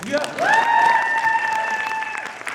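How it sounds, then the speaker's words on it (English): Audience applause at a Harry Potter fan convention reading, a thick steady clatter of clapping joined by a sustained high whoop or whistle that holds for about two seconds. "You may applaud now."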